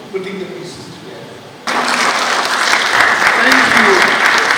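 Audience applause at the Stars of the Industry Awards 2024 breaks out suddenly after a voice over quieter room sound, then a full, steady clapping from the crowd carries on to the end.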